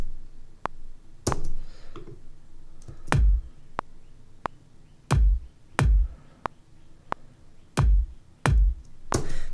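A programmed kick drum line for an electronic pop track, punchy booming kicks in an uneven syncopated pattern over a sparse clicking pulse, clear and alone with no voices.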